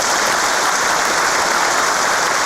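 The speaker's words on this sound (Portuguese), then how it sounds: "Peço que os irmãos recebam uma salva de palmas" Sustained applause from an assembled audience at a Masonic lodge lecture session, a dense, steady wash of clapping that stays loud and even from start to finish with no voices heard over it.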